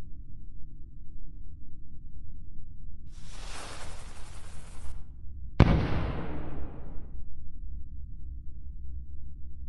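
A single Melon Sandbox firework rises with a whooshing hiss, pauses briefly, then bursts in one sharp bang that trails off into a long fading crackle, with nothing else around it.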